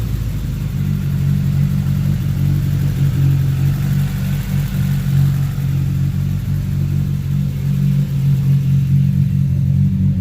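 A 2019 Chevrolet Camaro SS engine with its secondary catalytic converters deleted rumbles loudly and steadily up close, its deep exhaust note holding fairly even throughout with slight swells.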